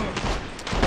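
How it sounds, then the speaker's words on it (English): Shotgun blasts in the Western shooter game Gun, several heavy booming shots in quick succession, loud and close. "that shotgun did some quick work"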